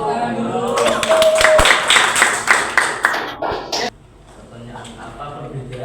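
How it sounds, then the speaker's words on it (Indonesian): Audience clapping at a religious studies teacher-training session, starting as scattered hand claps and building into dense, close applause for several seconds before cutting off abruptly. "Kasih tepuk tangan dulu"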